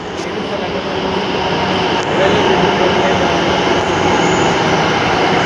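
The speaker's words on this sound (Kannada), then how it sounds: "ಟ್ರೈನ್ ಬಂತು." A metro train rumbles steadily into a station, its loud, continuous roar and rail noise swelling slightly partway through.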